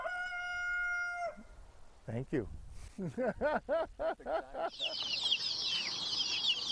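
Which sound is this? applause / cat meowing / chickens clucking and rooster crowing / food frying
chickens clucking and rooster crowing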